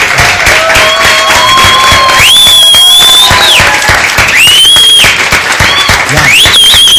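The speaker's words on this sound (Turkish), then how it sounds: "Alkışlayalım arkadaşlar." Loud studio audience applause on a Turkish television show, steady clapping mixed with high whistles and shouted cheers, a voice calling out over the crowd at points.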